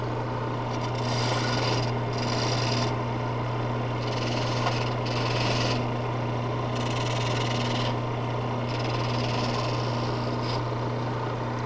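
A gouge takes a light refining cut on a spinning wooden baluster at the lathe, a steady scraping rasp rising and falling in repeated passes over a constant motor hum, close and moderately loud.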